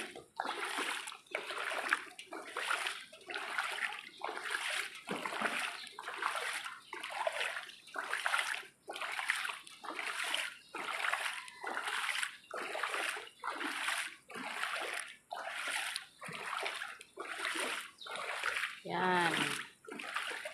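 Steady rhythmic splashing through deep floodwater around flooded classrooms in Catarman, roughly one surge per second, continuing close by with a voice speaking intermittently in Filipino.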